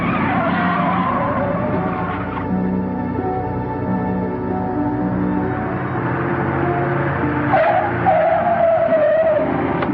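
A car in a 1949 film brakes hard with tires skidding, a long loud screech over engine rumble, with a second squeal near the end.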